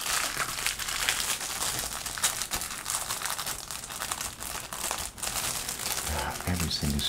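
Plastic wrapping around kit car parts crinkles and rustles continuously as it is handled up close, with dense crackling throughout and a voice talking under the noise.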